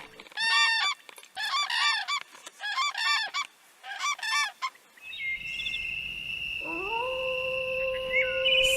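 Loud, close honking bird calls come in several rhythmic bursts, then give way to long sustained tonal calls over a low rumbling background.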